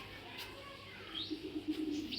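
Racing pigeons coo softly in a quiet setting, giving a few faint, low, rolling calls in the second half.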